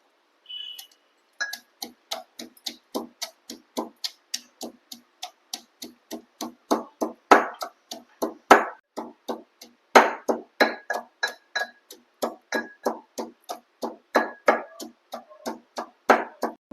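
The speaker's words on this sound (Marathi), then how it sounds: "मिरची, लसूण आणि जिरं हे चेचून घेत आहे" Green chillies, garlic and cumin are pounded by hand, a long run of sharp, evenly spaced thuds at a steady rhythm, close and clear with no talk.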